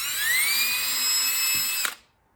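A power drill whines at high speed for nearly two seconds, its pitch rising slightly as it spins up, then stops abruptly into silence.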